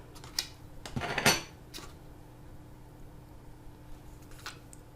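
Purple indicator solution being stirred in a container in a home kitchen, giving a short cluster of close clinks and scrapes early on before quieter handling noise with a faint tap near the end.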